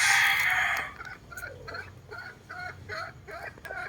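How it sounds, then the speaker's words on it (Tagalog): A 10-to-11-month-old Sweater Boston cross hen lets out a loud drawn-out call, then clucks repeatedly in a steady series of short notes nearby in a backyard. "Ito yung inahin."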